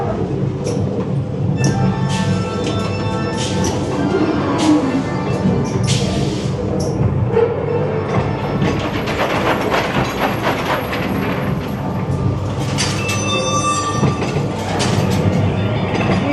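Train rumbling past at Blackpool Pleasure Beach, a loud continuous roar with rhythmic wheel clatter and some high metallic squeal, steady throughout and close by.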